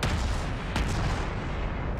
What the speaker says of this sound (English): those single cannons shoot as well